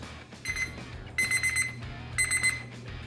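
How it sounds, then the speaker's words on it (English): A kitchen timer beeps in three short bursts of rapid high electronic tones, with quiet background hum between them. "So there's our timer to remind us to head out to our grill"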